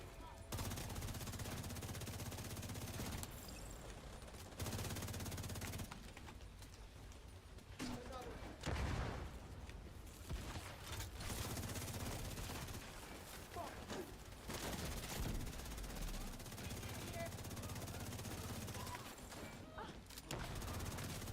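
Outcast gunners in a video game fire steady bursts of gunfire almost continuously, mixed with other game effects and music, while someone talks over much of it.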